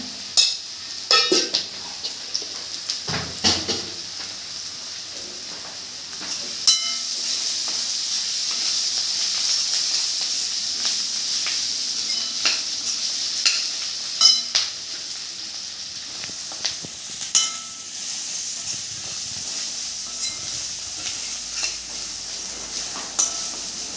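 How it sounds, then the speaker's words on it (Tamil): Onions sauté in a pan for butter chicken, giving a steady sizzle and hiss with occasional clinks and scrapes of a stirring utensil against the pan, continuing without talk. "வெங்காயம் வதங்கினது போதும்"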